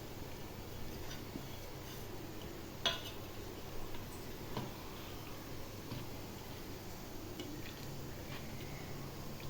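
Mutton biryani ingredients are stirred in a pot, with soft squishing and intermittent metal utensil scrapes and clinks over a steady faint background hiss.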